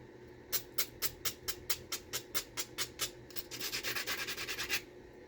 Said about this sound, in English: Try to find a coarser abrader here.